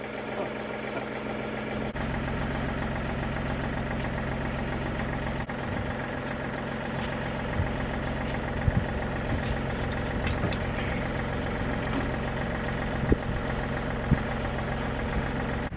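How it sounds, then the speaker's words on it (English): A tractor engine runs steadily while raking a gravel driveway, a low idling rumble with a faint knock that continues for the whole stretch. Occasional small clanks and knocks break through, and no one speaks. "my grandfather came over and started his tractor and he's raking the driveway"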